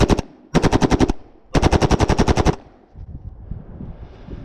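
A UMP in .45 ACP fires two full-auto bursts, loud and close, with a brief pause between them, followed by a faint lower rumble.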